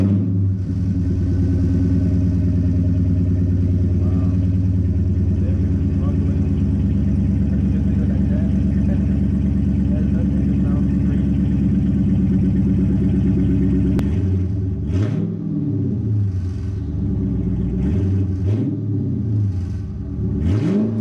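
A Chrysler 300 with a 5.7L HEMI V8 idles and rumbles with its mufflers removed, a deep steady open-exhaust drone that breaks into a few revs near the end.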